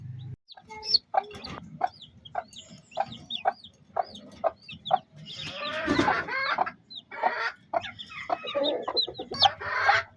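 Hen clucking softly among newly hatched chicks, with repeated short cheeping calls and low clucks in an uneven rhythm, close by; a louder burst of fowl calls mid-way.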